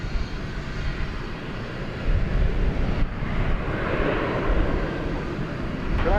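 An Airbus A321 at night at DFW, moving into position on the runway, gives a low, steady engine rumble that swells a little partway through, fairly close and alone without voices.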